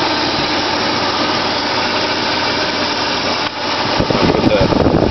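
A Toyota 4Runner engine runs close by after reassembly with its fan shroud and harmonic balancer refitted, giving a steady, dense mechanical hum that grows slightly louder and rougher in the final second and a half.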